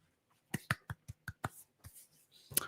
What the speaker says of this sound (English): Let me get a big hand clap